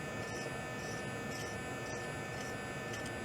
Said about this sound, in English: We will probably enlist the ultrasonic brush here momentarily